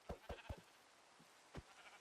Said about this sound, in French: j'ai entendu un mouton.